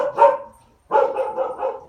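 A dog barks in two bursts, a single loud bark followed after a short pause by a longer run of rapid, close barks.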